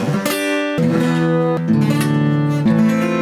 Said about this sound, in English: your fingers will try and remain flat across the strings, giving you sounds like this